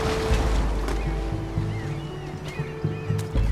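Ocean waves in a platform video game, a loud continuous rolling surf wash with low rumbling swells and faint higher game sound effects layered over it.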